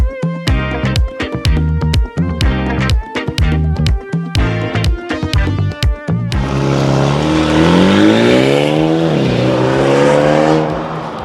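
A Tank 300 SUV on a test drive idles and blips in a fast run of sharp throttle revs, then accelerates hard in one long loud rising engine pull that drops back and climbs again.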